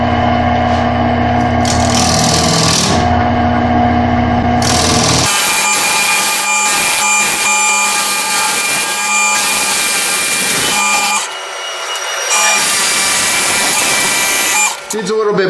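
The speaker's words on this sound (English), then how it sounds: "To take a little bit more, I'll switch to my bowl gouge again." Bowl gouge cutting a woodturned box spinning on a lathe, a steady loud scraping and shaving drone with shifting pitch over the running motor hum.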